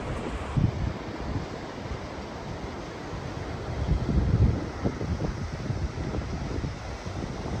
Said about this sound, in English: it's a pretty windy day today. Very windy.